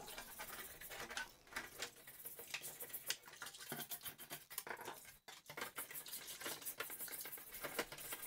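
Stiff brush scrubbing the plastic case of an Atari 4160 STe under running water, a steady wet scratching patter with quick rhythmic strokes and brief pauses, close and fairly loud throughout.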